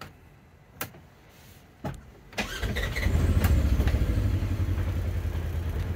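A 2015 Polaris Ranger Crew 900 UTV starts with a few clunks, then its engine settles into a steady, close idle rumble that continues to the end.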